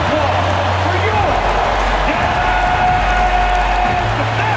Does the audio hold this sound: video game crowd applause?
yes